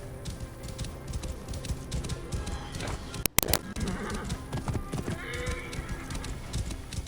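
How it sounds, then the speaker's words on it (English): Rhythmic hoofbeats clip-clop steadily throughout, with a horse whinnying midway after a sharp burst, alongside ambient sounds from the video game Assassin's Creed Origins. "This must be Mered's horse."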